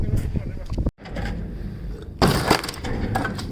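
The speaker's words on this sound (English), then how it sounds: "Smashing things up again." Furniture being smashed up during hoarder-house junk removal in Chicago's Dunning neighborhood, giving repeated close crashing and splintering wood impacts with a brief silent gap, then a louder burst of breaking.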